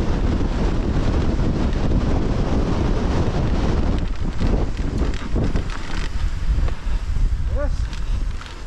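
Strong wind buffets the microphone during an enduro motorcycle race in rough wooded terrain, a loud continuous roar filling the whole clip, with brief voices and rustling breaking through near the end.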